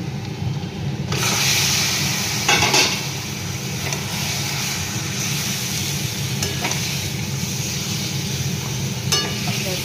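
Fish sizzles steadily in hot oil with onions fried deep red, a loud continuous frying hiss with occasional stirring scrapes and clinks.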